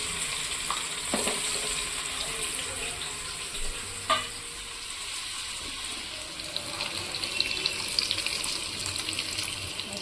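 Chopped boiled egg pieces frying in a pan with turmeric, giving a soft, steady sizzle with occasional clinks and scrapes from stirring, fairly quiet and close, with no voices.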